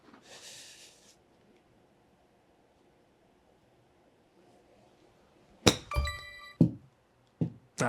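A bunker flop shot is hit on a GolfJoy Spica 3 golf simulator. After a quiet stretch comes a sharp thunk followed by a few short knocks, close and distinct in a still room.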